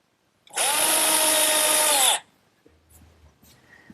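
A power drill drives a galvanized screw into wood in one loud continuous whine of about one and a half seconds, then stops, leaving faint handling noise.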